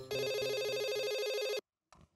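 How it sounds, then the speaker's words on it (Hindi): Telephone ringback tone on an outgoing call, a single loud steady ring burst lasting about a second and a half before cutting off, followed by a brief faint sound. "मैं माधवी भाभी को फोन करती हूँ"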